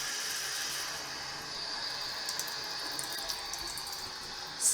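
Water sprays steadily from a swivel faucet extender set to shower mode, a continuous close hiss of fine streams into a sink with no talking.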